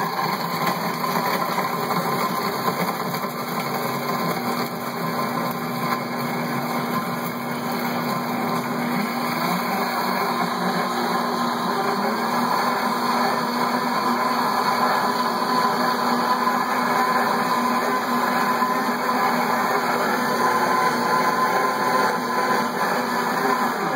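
A blender runs an ice cycle program for a green breakfast smoothie, giving a loud, continuous motor whir with a high whine that holds fairly steady throughout.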